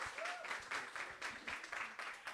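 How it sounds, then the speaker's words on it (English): A community audience at a river policy talk applauds, with sparse, moderately faint clapping coming in irregular bursts and no voices. "please give a hand of applause to Damon for participating in this."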